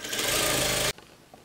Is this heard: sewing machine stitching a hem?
yes